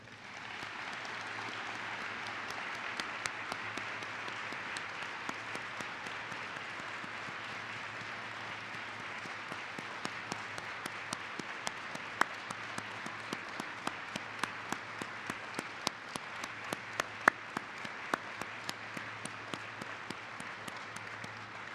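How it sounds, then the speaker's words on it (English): Conference audience applauding in memory of a colleague, a long, steady round of clapping from a large hall, with sharper individual claps standing out near the end. "Please join me in a round of applause in memory of Jeff Appel."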